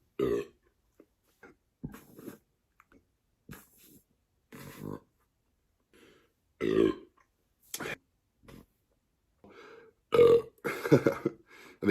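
A man burping over and over, a long run of short, scattered belches with gaps between them, some throaty and some snorting, growing louder and rougher near the end, close to the microphone and with no talk.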